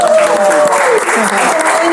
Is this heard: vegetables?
no